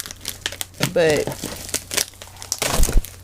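Plastic packaging on a hair and beauty subscription box crinkles and tears open in short bursts, with someone talking over the rustling throughout.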